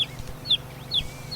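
A chicken clucks in short repeated calls at a steady rhythm, fairly close and clear over a quiet background, with no speech.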